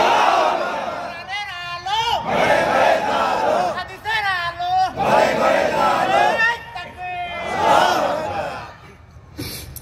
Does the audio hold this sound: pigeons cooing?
no